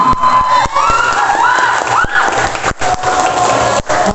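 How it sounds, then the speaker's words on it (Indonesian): Audience at a school quiz competition held for a Maulid, Santri Day and Quran completion celebration claps and cheers, a dense crowd roar with shouting children and scattered sharp claps over about four seconds, no speech. "Tepuk tangan."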